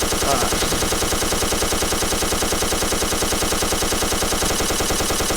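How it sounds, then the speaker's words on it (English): Rapid, sustained automatic gunfire from a video game DP-28 light machine gun, a steady relentless stream of loud shots with no pauses. "has really cool bullet effects and sound effects, like the bullets traveling through the air."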